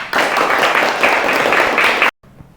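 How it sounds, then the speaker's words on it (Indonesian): An audience at a group presentation gives a brisk burst of clapping that lasts about two seconds and then cuts off abruptly into near silence. "Iya, tepuk tangan."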